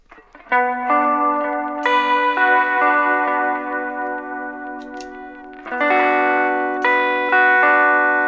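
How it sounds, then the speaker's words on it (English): Electric guitar chords ring out one after another with a shimmering, wavering reverb tail, the notes swelling and sustaining into a wash of sound. "I'm going to use a modulated reverb for this as well."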